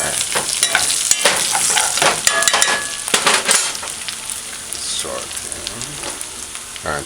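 Ackee, bacon and a thyme sprig sautéing in a pan for a Jamaican breakfast. A loud, close sizzle runs throughout, with a spoon scraping and stirring, and a faint voice now and then.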